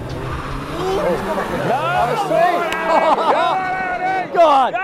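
Mercedes A45 car skidding on a runway: loud, wavering tire squeal and revving engine building across several seconds, with excited voices and crowd babble over it.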